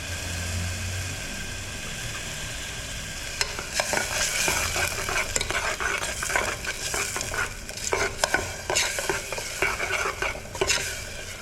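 Spice paste sizzles and spatters in a hot pan of tempering oil while a utensil stirs and scrapes intermittently; no voices.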